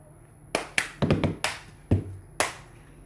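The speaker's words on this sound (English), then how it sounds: "you're going to take your hand off the cup and clap" Sharp hand claps and cup taps from the cup song, about seven crisp, close percussive hits in an uneven rhythm, including a quick cluster of taps, against a quiet room.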